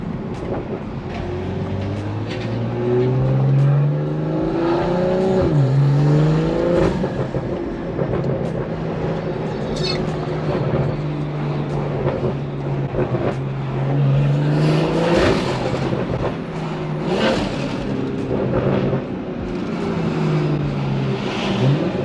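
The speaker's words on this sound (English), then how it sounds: "But the exhaust sounds super good." BMW fitted with an aftermarket Valvetronic exhaust and rear diffuser, engine revving and droning with rising and falling pitch and burbles, loud and close, heard from inside while driving, with no talk.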